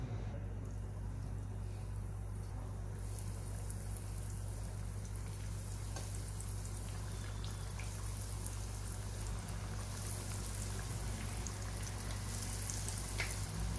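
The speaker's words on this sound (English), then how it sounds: "Fry these nuggets on a medium heat till they become light brown from outside." Chicken nuggets deep frying in hot oil over medium heat, a steady dense crackle and bubbling sizzle running continuously at moderate level with a low background hum.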